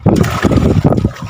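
Blustery northeast monsoon (amihan) wind buffeting the microphone in uneven gusts, loud and close, with a low rumbling roar throughout.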